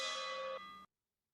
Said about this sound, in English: I think I found a bell